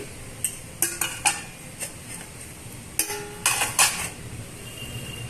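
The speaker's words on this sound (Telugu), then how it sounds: "ఇప్పుడు మనం మూత తీసి చూద్దామండి" A lid clinks and rattles as it comes off a container of urad dal and idli rava left soaking for four hours, with several sharp metallic taps in two short clusters against a quiet background.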